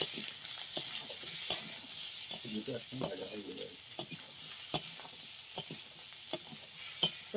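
Boiled snails and potatoes are stirred in a frying pan. Soft sizzling runs underneath while a spoon scrapes and taps the pan in a regular rhythm, about one stroke per second.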